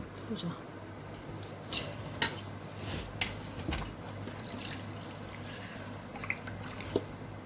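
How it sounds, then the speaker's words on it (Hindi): Cold water trickles and pours softly into a container of cream for making ghee, amid a steady background hum, with faint clinks and muffled voices in the background. "अब हम इसमें ठंडा पानी थोड़ा सा शामिल करेंगे"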